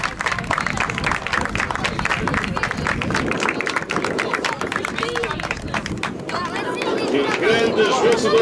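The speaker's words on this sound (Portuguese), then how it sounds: "Aplausos para a Lavra." Audience applause at a youth athletics meeting's prize-giving in Matosinhos, a sustained, fairly loud round of clapping mixed with crowd chatter and voices throughout.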